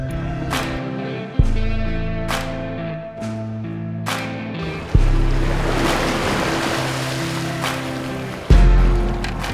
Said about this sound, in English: A little bit of rough water today.